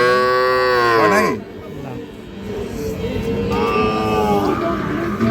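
Sahiwal bull calves at an outdoor cattle market, one loud close moo at the start and another longer moo near the end, with market chatter and crowd noise between.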